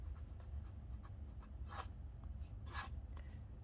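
A titanium flex nib on a Stipula Etruria fountain pen writing on paper, a faint, soft scratching with a few brighter strokes, heard close and alone against a low background hum.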